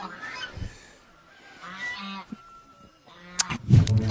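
Fowl squawk and honk loudly while a bird is grabbed, with scattered flapping and scuffling in between and a burst of harsh, close calls near the end.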